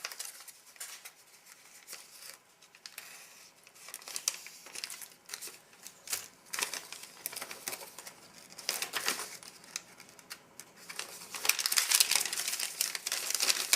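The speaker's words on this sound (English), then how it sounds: "So we'll give the envelope a little helping hand there with opening" Crinkly tearing and crumpling of a flameless ration heater envelope from a 2004 vegetarian MRE, a run of close, sharp rustles and rips that grow louder and denser toward the end, with no talking.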